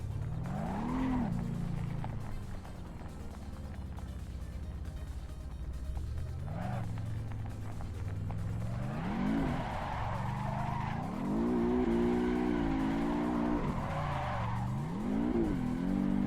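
A car speeds up on gravel, its engine whining upward in repeated rising sweeps with skidding tire noise. The sound is loud and continuous, with no voices.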